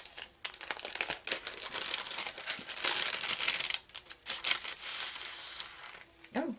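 Paper crinkles, tears and rustles as a mailed envelope of happy mail is worked open, close and continuous for several seconds with brief pauses, no talking over it.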